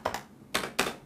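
Typing on a Perixx PX-3200 gaming keyboard: four quick, close keystrokes, two light clicks followed by two louder, heavier strokes, with no talking.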